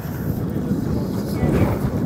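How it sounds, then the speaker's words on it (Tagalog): Wind buffets the microphone outdoors at the ancient site of Hegra in Saudi Arabia, a steady loud low rumble with gusty swells throughout. "Mahangin dito."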